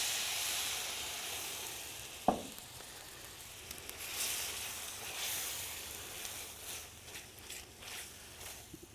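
Red wine and tomatoes hitting a hot pan for Cajun oyster etouffee, a steady close sizzle and hiss with one sharp clank early on and light stirring afterward.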